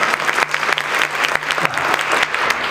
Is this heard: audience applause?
yes